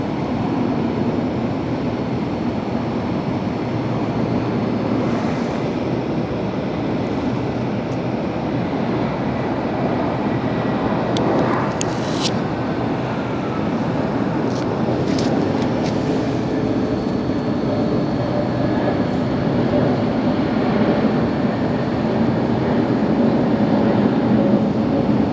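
An airliner inbound near LAX, heard as a steady, broad roar rumbling continuously at moderate distance, with faint brief chirps over the top.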